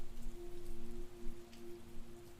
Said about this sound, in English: The storm continued, the rain falling harder, if anything